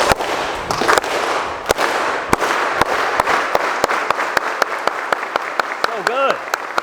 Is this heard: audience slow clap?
yes